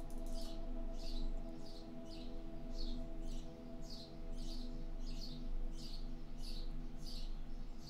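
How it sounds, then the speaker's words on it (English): Birds outside chirp in a faint, regular series of repeated calls, picked up through a microphone indoors over a steady electronic hum. "Can you guys hear all the birds outside through my mic?"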